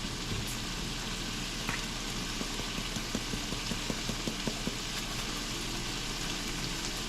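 Onion and other ingredients sizzle steadily in a hot pan, a dense, even crackle with a run of light ticking stirs near the middle, close and alone with no talk.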